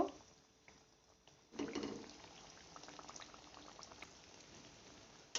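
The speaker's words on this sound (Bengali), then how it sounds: "এবার একদম লো ফ্লেমে এগুলোকে ভেজে নেব" Pastry snacks fry gently in medium-hot oil over a very low flame, a faint bubbling sizzle that picks up after a couple of seconds and keeps simmering quietly, ending with a small clatter.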